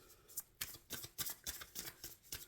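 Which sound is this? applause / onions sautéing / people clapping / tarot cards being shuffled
tarot cards being shuffled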